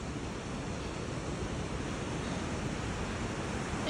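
A waterfall and flowing water at a hidden pool below the Cascada de Fuego make a steady, broad roar of rushing water, constant and fairly close, with no voices.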